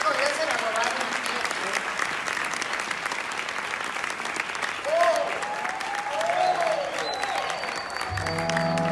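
A theatre audience applauds at the 100th performance of the musical Sugar, a loud, sustained wash of clapping with cheers and voices rising through it, ending abruptly near the close.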